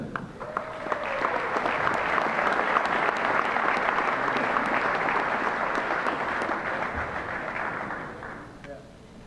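Banquet guests at a coaches' awards dinner give sustained applause, a broad even roar of clapping that swells, holds for several seconds, then tapers away near the end.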